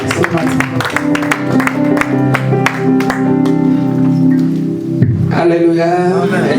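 Congregation in a church service applauding to welcome Pastor Serge Biya, clapping loudly and continuously under sustained music with held tones, then a brief pause and a voice rising at the end.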